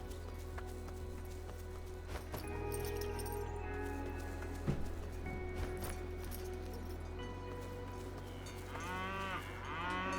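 Cow lowing in the video game Dungeons of Hinterberg, heard over steady game music with hoof-like clip-clop steps, a few moos standing out against the tonal background.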